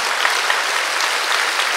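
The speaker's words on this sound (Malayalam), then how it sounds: "clap your hands, very fine, little more" A church congregation claps their hands together, making a dense, even wash of applause that holds at a steady loudness for a couple of seconds.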